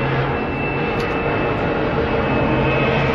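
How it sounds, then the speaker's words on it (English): An airplane passes overhead as a steady, broad low rumble that stays loud and even throughout, with no talking. "there's an airplane flying by"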